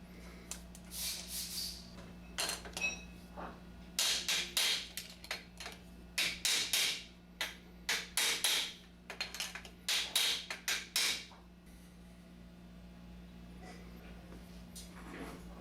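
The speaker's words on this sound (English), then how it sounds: "It is a press fit, so you must hammer it in place using a punch." Sharp metallic taps of a hammer on a punch, pressing a drywall taping tool head into place, come in quick clusters of strikes with brief pauses, close by over a steady low hum.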